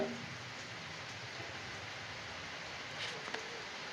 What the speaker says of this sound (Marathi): आज पाऊस येतोय ते एकदम वातावरण थंड झालं